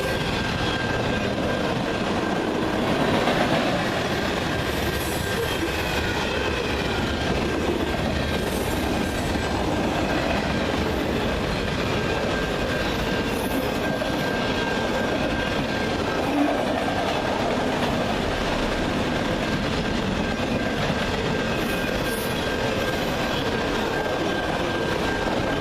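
A CN freight train led by a GEVO locomotive rolls past in Ladysmith, with a steady loud rumble of wheels and rail clatter sustained throughout and no voices.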